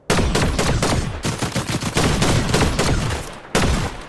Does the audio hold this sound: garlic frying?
no